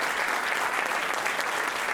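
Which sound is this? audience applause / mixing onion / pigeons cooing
audience applause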